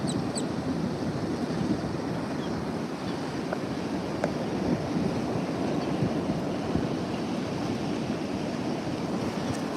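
Steady wash of surf and gusting wind on a Texas beach at sunrise, a continuous close roar of waves with wind buffeting the microphone throughout, no voices.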